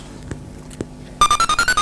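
A phone ringtone suddenly starts after a quiet room with faint knocks, playing a loud repeating electronic melody in rapid pulses that continues to the end.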